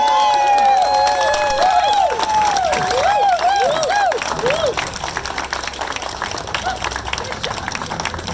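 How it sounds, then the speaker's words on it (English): Audience applauds and cheers at a Walk of Fame induction ceremony in Pullman, steady dense clapping with whoops, then easing slightly in the second half. "If you all will join me in a big round of applause for Sue Durant."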